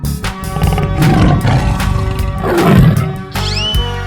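A tiger roar from a 3D animal slide game, two loud rumbling growls rising and falling over looping game music.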